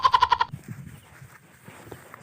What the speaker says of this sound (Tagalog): At merong kambing.